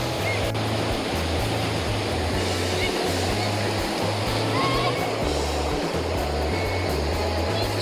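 Water pours over the rocks of Port Sydney Falls on the Canadian Shield, a dense, continuous roar with a steady low rumble, near and loud, holding constant throughout.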